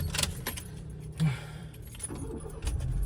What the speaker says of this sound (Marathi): गाडी चालू करू द्या